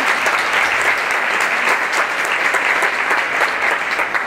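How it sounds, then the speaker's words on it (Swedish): Warm audience applause at a Swedish panel event as a guest steps onto the stage, dense and steady clapping from a near crowd throughout, with no talk over it. "Ja, absolut, en varm applåd."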